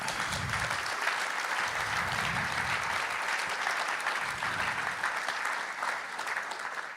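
A conference audience applauds steadily for the volunteers, a dense wash of clapping that carries through the whole stretch at an even level, with some low murmurs and movement underneath.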